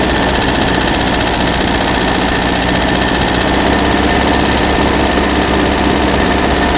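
A 1980s Daihatsu 4x4 engine idles with the choke off and the ignition timing slightly out, a loud, steady, close mechanical rumble with a constant hum and no change in pace.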